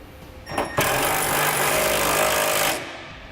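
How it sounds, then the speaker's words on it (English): A power tool drives thread-locked bolts through side bracket plates into the crossmember of a 2017 Ford F-350 Super Duty during a fifth wheel underbed kit install, giving a brief loud buzzing burst of about two seconds after a short blip. "Next, we're going to tighten the bolts that have that pre-applied thread locker that are attaching our side bracket plates to the crossmember."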